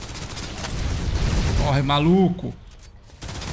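Gunfire in the third-person shooter video game Snowbreak: Containment crackles in rapid bursts under a man's loud, excited talk.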